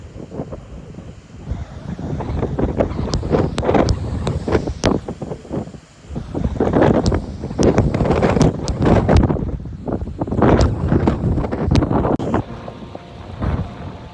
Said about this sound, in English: hell of a wind this morning